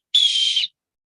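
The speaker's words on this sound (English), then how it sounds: "trying to learn how to blow the whistle." A young child blows a whistle once, a short loud shrill tone lasting about half a second, close and alone against silence.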